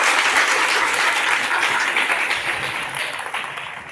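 Studio audience at a KBC-style quiz show bursts into loud, dense applause for a contestant, a steady wash of clapping that slowly tapers toward the end.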